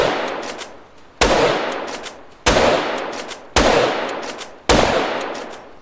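An AWP sniper rifle fires in a Grand Theft Auto game: five loud, sharp single shots about a second apart, each followed by a long, fading reverberant tail.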